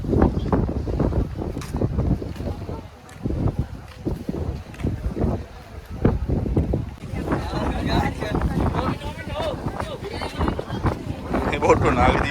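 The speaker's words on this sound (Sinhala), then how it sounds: "මේ බෝට්ටුව නාගදීපේ ඉඳලා ආපු බෝට්ටුව." A ferry boat on the crossing to Nagadeepa (Nainativu) island in Sri Lanka, its engine rumbling steadily beneath wind buffeting the microphone and splashing water, with people talking nearby throughout.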